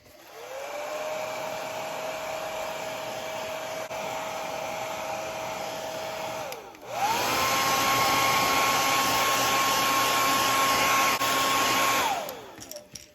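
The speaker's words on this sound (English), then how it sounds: "Then we'll hit it with the hair dryer." A hair dryer blows steadily at close range over a freshly painted fishing lure, switches off briefly, then runs again on a higher, louder setting before winding down.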